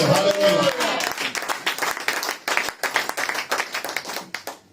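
A church congregation bursts into applause to the glory of the Lord, dense clapping that follows a shouted voice and then breaks into uneven, rhythmic hand claps, with voices calling out over it.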